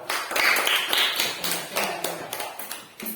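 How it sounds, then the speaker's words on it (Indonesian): A small group at a classroom presentation claps for the second team, a brisk spatter of applause that runs steadily for a few seconds and then tapers off. "tepuk tangan untuk kelompok 2"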